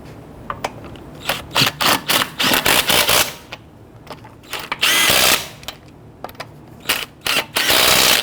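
Lug nuts on a 2011-2017 Nissan Quest front wheel are run down with a power tool in repeated short, loud bursts of whirring and rattling, separated by brief pauses, with no talking.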